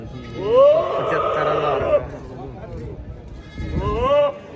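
Two loud, wavering bleats from a male goat close by at a livestock market, one long and one shorter after a pause, with low murmuring in between.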